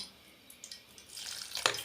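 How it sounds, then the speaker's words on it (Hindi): Water poured into potato pakora batter with fresh coriander in a mixing bowl, a faint trickle building into a brief, brighter splash near the end, quiet and close. "थोड़ा सा पानी और डाल लेंगे।"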